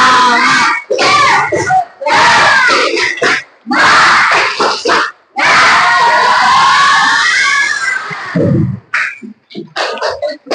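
A class of students loudly performs a tepuk semangat clapping chant, with energetic group voices shouting in rhythmic bursts and short pauses between phrases.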